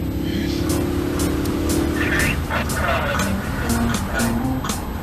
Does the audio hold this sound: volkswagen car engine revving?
yes